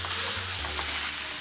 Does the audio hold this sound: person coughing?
no